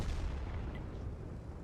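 A tank cannon fires in a tank combat video game, a heavy, sustained low rumbling boom that fills the moment with no talking over it.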